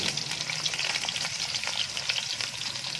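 Onions fry in ghee in a pot on a stovetop, a steady close sizzle with crackling bursts and faint stirring scrapes, heard alone without talk.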